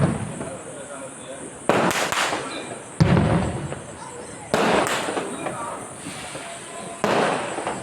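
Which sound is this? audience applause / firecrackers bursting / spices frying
firecrackers bursting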